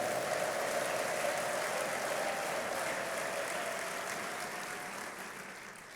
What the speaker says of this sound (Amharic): እልልታ ጭብጨባ እስቲ ለዚህ ጌታ።